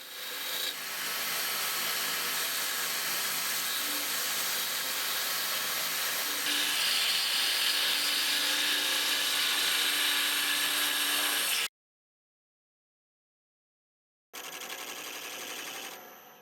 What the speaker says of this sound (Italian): lo calibriamo con la punta di una sgorbia a profilare da dietro